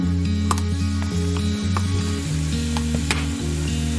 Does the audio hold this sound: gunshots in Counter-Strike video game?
no